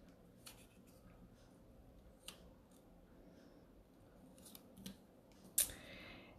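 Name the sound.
scissors cutting out a paper coffee cup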